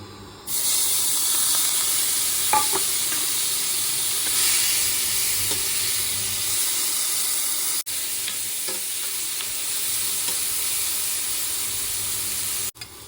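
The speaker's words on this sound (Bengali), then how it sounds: "এখন কড়াই গরম করে চিংড়ি মাছটাকে ভালো করে ভেজে নেব" Prawns sizzle steadily in hot oil in a kadai, a continuous bright frying hiss with occasional soft stirring clicks and two brief breaks, close and loud throughout.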